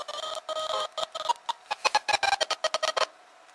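Glitchy, stuttering game audio from Pokémon on a GBA emulator: choppy bursts of chiptune-like tones and crackle, breaking into rapid short pulses before cutting off, fairly near and alone.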